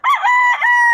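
A Golden Boy gamecock rooster, a 5K Sweater mix, crows once, a loud close cock-a-doodle-doo lasting about a second with no talking over it.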